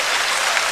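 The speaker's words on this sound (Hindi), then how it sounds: "इधर से तालियां कम बज रही हैं" Audience applause at a Hindi comedy show, a dense even wash of clapping filling the whole short moment without a voice over it.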